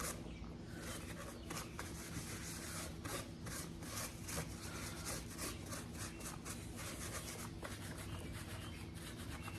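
Cloth rubbing and wiping over the plastic housing of an Echo SRM 2300 string trimmer, a steady close scrubbing with quick repeated strokes throughout, no talking.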